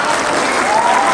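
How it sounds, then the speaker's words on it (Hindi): Loud, steady applause from a school annual function audience fills the whole moment without a break, dense and close, with no voices rising above it. "जोरदार तालियां हो जाए।"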